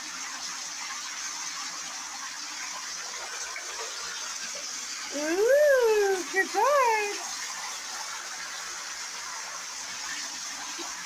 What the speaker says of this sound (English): Did Mama turn on the water?